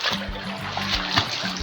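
Splashing and swishing water as someone wades through knee-deep floodwater in a flooded neighbourhood after three days of rain. The churning is continuous and close, with faint voices in the background.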